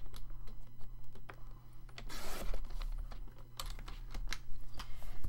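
Cardstock being cut down to size for an explosion box craft, with a brief rough slicing and scraping sound midway amid light tapping and handling noises against a low steady hum.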